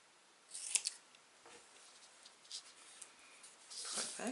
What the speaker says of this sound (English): So grab my scissors and give it a little cut.